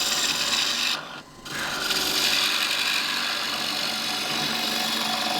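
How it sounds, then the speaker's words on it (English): A cutting tool shearing wood and throwing off long pigtail-like shavings makes a loud, steady, close rasping hiss that dips briefly near the start, then runs on continuously without talk. "these lovely long pigtail-like shavings that are coming off now"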